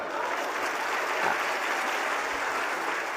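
A crowd at a Bageshwar Dham religious gathering claps steadily and densely for about three seconds, a full sustained wash of applause with no one speaking over it.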